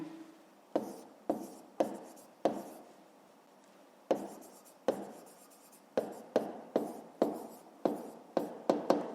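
A pen writes on paper during a fifth-grade math exercise, crisp close scratching strokes in short bursts with sharp taps between them and a quiet gap midway.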